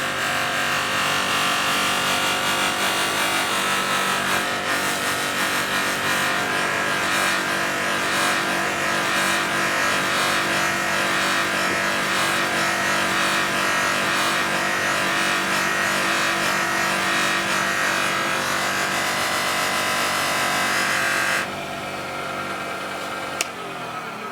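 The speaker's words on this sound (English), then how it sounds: "so it's creating the friction that is needed for the wax to be able to go into and onto the piece you're working on" Wax pressed by friction against a spinning hybrid pizza cutter handle on a lathe, giving a loud, continuous rubbing hiss over the lathe's hum that drops off sharply near the end.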